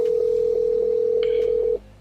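Phone ringback tone while calling someone: a steady, loud electronic tone held for nearly two seconds, then cutting off, with no talking.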